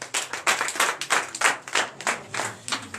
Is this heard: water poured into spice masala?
no